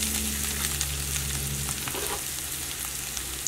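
Onions and green chillies sauté in a pan with spice powders, a steady close sizzle running throughout with light scraping and stirring clicks, no voices.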